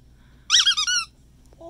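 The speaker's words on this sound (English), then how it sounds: "Oh, they're squeaky." A squeaky frog-shaped dog toy on a pet store shelf gives a quick burst of three or four high, close squeaks in an otherwise quiet aisle.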